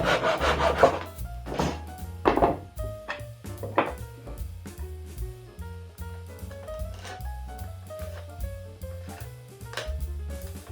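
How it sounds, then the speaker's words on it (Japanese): A drawknife shaves the surface of a wooden stool leg in several rough, rasping strokes, followed by a quieter stretch with soft woody scraping under a melodic tone. "棒の表面を削っていますけども全部は削りません"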